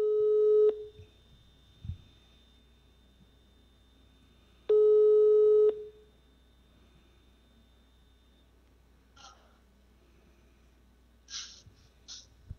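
Telephone ringback tone heard while placing a call to a radio show listener: two long steady electronic beeps several seconds apart, then quiet with faint handling rustles.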